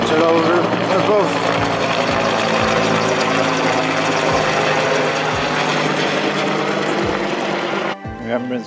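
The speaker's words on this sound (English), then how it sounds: "helicopter over above." A helicopter flies overhead of a park in Crewe, its steady rotor chop and whining engine loud and continuous, fading sharply near the end.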